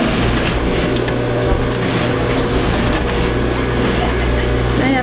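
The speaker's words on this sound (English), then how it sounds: "I'm sewing on the double bottom" A sewing machine stitching the double bottom onto a Duluth Pack bag, a loud, steady mechanical drone with a constant low hum that runs unbroken throughout, close up in a busy workshop.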